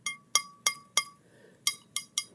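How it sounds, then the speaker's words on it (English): Borosilicate glassware rings out in a series of about seven sharp, bright clinks at a quick, uneven rhythm, each tone lingering briefly before the next tap, close and clear. "Sounds like China, but it's borosilicate glass."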